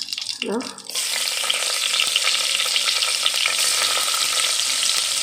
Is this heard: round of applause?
no